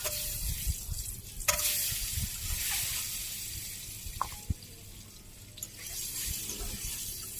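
Eggs fry in oil in a Bangladeshi village kitchen while being stirred, a bright sizzling hiss broken by scraping stirs and a few sharp clicks of a utensil against the pan.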